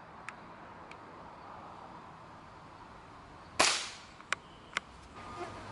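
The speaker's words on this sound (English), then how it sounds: "So go ahead and shoot the back of that skull, Matt." A Gamo pellet gun fires a single sharp crack into the back of a skull, one loud snap with a brief decay, followed by a few small ticks and taps.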